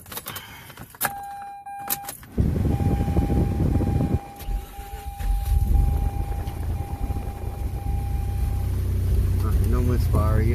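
Keys jingle near a Mazda RX-8 before its rotary engine cranks and starts, settling into a loud, rough, uneven idle up close, with a high whine running along.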